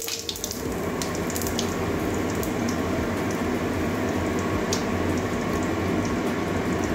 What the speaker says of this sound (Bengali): এবারে ফোড়নে সাদা জিরে দিয়ে দিচ্ছি হাফ চামচ মতো